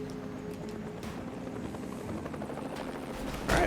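Helicopter in the video game Mercenaries 2: World in Flames, a steady rotor and engine drone holding at an even level throughout, with a louder burst of game noise at the very end.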